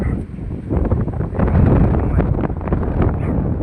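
Strong hot wind buffets the microphone in loud, gusty rumbles at a crowded outdoor street market, steady and close throughout, with faint outdoor background underneath.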